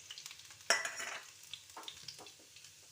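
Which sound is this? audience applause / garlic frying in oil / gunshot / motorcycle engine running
garlic frying in oil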